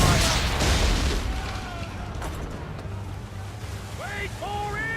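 Swivel guns firing from a sailing ship during an Assassin's Creed 3 naval battle, a heavy boom at the start followed by rumbling, with sea and shouted voices over the top.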